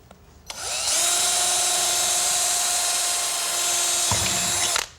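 A small drill bit, about 4 mm, bores through zinc decking sheet in a high, steady whine that holds for about four seconds, then cuts off abruptly. Loud and close, with no talking.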